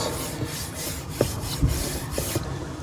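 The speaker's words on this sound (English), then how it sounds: "I could even run some smooth sandpaper on this surface, just to make it nice and smooth" A rusty brake rotor is rubbed with smooth sandpaper in short, scratchy strokes, fairly quiet and close, each pass making a light rasp with no talk.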